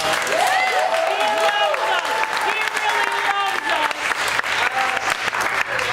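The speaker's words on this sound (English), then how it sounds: "So give yourselves a big round of applause." A tournament audience gives a round of applause, sustained dense clapping throughout with a voice speaking over it.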